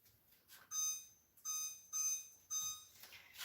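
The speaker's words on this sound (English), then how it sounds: "Now I'm going to set my stove timer, and in 15 minutes, that's how quick and easy this is." A kitchen stove timer is being set, giving four or five short, high electronic beeps in an uneven sequence, quiet and close, with no one talking.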